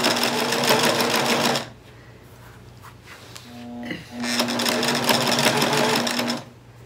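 Sewing machine stitching satin binding onto a baby blanket, running in two steady bursts of about a second and a half and two and a half seconds with a quiet pause between.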